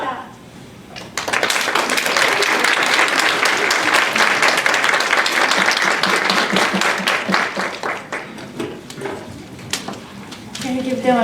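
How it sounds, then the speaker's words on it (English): An audience at a university event on U.S.–Japanese TOMODACHI Generation exchange applauds in a sustained, dense burst of clapping lasting around ten seconds, fading slightly toward the end. "Can you give them another round of applause?"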